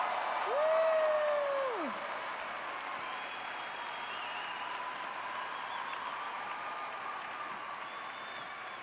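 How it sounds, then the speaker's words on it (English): Graduating crowd applauding at a university winter commencement, a whoop rising over steady clapping that stays dense and even for about nine seconds in a large hall. "Let's give you guys a big round of applause"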